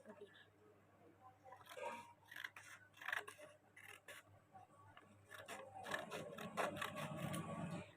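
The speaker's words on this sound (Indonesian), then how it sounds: "Kita ingin menggunting kertas ini" Scissors snip through a sheet of paper in a run of crisp, uneven cuts and rustles, faint and close, with a voice speaking softly underneath.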